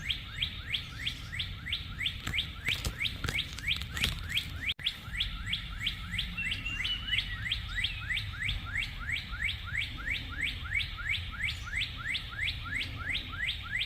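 Birds in a garden on a rainy day, a long run of rapid, repeated chirps close by and fairly loud over a soft background of rain, with no talking.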